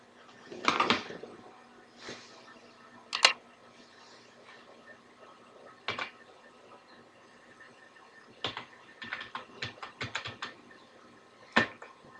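Someone types a name into an online birth and death certificate application form on a computer keyboard, producing near, irregular bursts of key clacks separated by pauses, with no talking.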